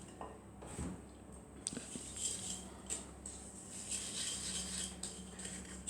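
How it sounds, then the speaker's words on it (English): Butter and sugar are stirred together in a bowl for chocolate chip cookies, a faint run of scraping and light clinking of a utensil against the bowl with a few soft knocks. "So just stir it in the bowl, the butter and sugar together, until it all comes together and very creamy."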